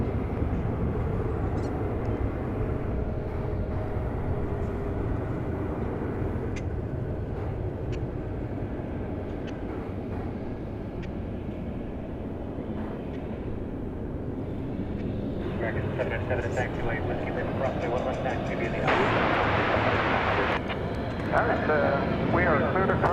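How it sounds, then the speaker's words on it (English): An Airbus A319 jet, Flight 1294 to Austin, rumbles steadily at an airport, its engine noise swelling and growing louder toward the end, with people talking over it throughout. "we can now identify as Flight 1294 going to Austin, Texas. It's an Airbus A319."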